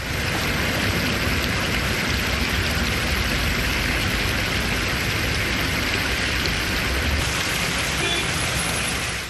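Heavy rain pours down in Chennai on Diwali, a steady, dense hiss of falling water that holds at an even loudness throughout with no voices.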